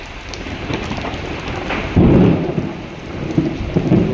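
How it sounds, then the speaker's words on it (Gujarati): Thunder rumbles low and loud through a heavy rainstorm, swelling in a deep roll about halfway through and again near the end over constant close rain noise. "ગાજણ કેવું ગાજણ થઈ રહ્યું છે."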